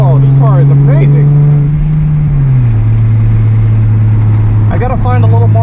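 Close in-car engine noise from a race car, a loud sustained drone that drops in pitch partway through, with someone speaking over the roar at the start and end.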